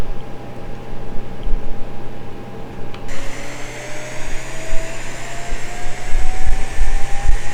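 The ATR 72-600 engine spools up during a flight simulator start with props off, a steady loud turbine whine and hum that jumps in pitch and rises slowly, running alone without talk.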